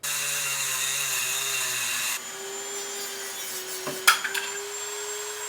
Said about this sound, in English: we're going to be using this Dremel tool with a cutting wheel